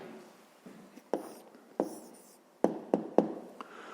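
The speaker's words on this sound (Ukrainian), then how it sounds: "записуємо тоді відповідь." Pen writing down the answer to a 5th-grade math problem on paper, a few soft scratches with sharp taps at intervals, close and quiet.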